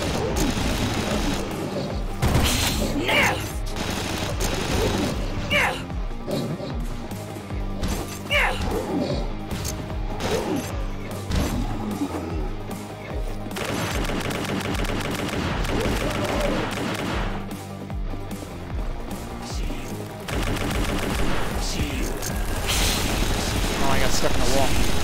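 Gunfire from the video game Hellslinger, dense and continuous, with repeated sharp shots and crashing impacts layered over game music and effects, loud throughout.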